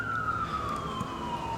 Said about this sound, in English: like, hear that siren?